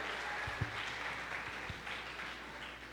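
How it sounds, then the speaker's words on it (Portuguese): Congregation in a Pentecostal church applauding, a soft steady patter of many hands clapping at a distance with a couple of sharper low thumps. "vamos aplaudir ao Senhor"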